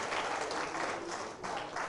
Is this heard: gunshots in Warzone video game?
no